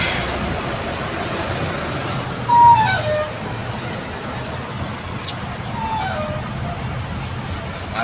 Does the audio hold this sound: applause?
no